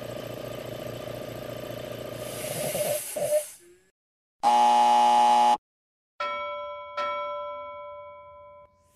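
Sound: Agilent handheld multimeter audible indicator beep

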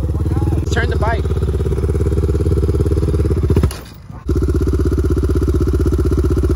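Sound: motorcycle engine running

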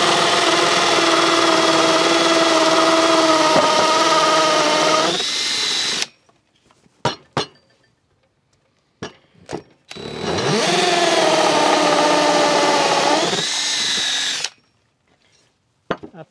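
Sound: power drill boring a hole with a 3/4 inch bit

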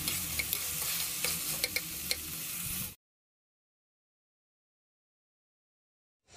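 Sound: onion, capsicum and chilli frying in oil

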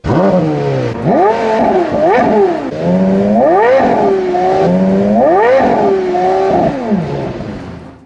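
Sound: Porsche Carrera GT 5.7 V10 engine sound

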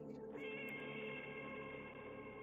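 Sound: cats meowing in Turnip Boy Robs a Bank video game

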